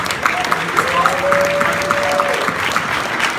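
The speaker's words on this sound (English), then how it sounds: "join me in a quick round of applause again for Launch Tennessee" An audience applauds at a startup accelerator demo day pitch event, a steady round of clapping with a crowd wash lasting the whole clip, and a faint whistle-like tone rising through the middle.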